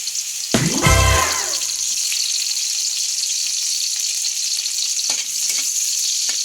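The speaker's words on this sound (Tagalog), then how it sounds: "I-brown po natin siya ng konti at isunod po natin yung sibuyas." Garlic then onion sautéing in hot oil for a chicken adobo: a loud burst of sizzling as the food hits the pan, settling into a steady frying hiss with a few faint clinks of stirring, no talking.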